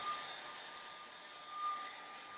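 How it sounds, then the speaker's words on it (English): A steady, high-pitched whooshing drone of a hair dryer blowing continuously, close by, with a slight swell partway through. "I'm going to grab my handy dandy hair dryer"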